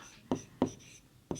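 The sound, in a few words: writing answer by hand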